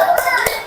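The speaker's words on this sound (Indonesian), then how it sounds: "Tepuk tangan untuk kelompok 3." Primary school class clapping for a group during a lesson, a brief burst of hand claps lasting under a second.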